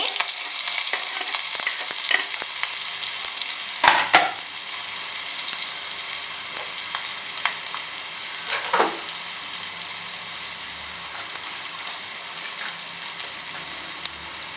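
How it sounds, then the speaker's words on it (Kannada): A tempering sizzles steadily in a pan for sprouted gram palya, a continuous close frying hiss with a few sharp spatters and light stirring scrapes throughout. "ಕಾಳು ಪಲ್ಯ ಮಾಡೋಕ್ಕೆ ನಾನು ಒಗ್ಗರಣೆ ಹಾಕ್ಕೊತಾ ಇದ್ದೀನಿ"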